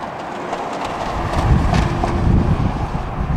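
A steady rumbling roar of CSX freight train I-158's rail cars rolling past, mixed with gusty wind noise buffeting the microphone.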